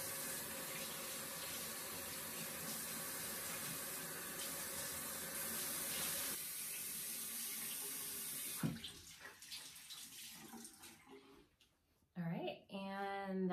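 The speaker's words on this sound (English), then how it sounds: "All right, I'm gonna rinse it out." Tap water runs steadily into a sink while a charcoal face mask is rinsed off, a continuous close splashing flow that breaks into uneven splashes and then stops, with a voice speaking near the end.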